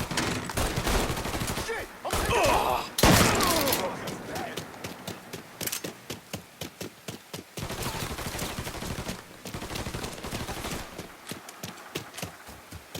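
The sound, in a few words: gunfire in the video game Mafia III: Definitive Edition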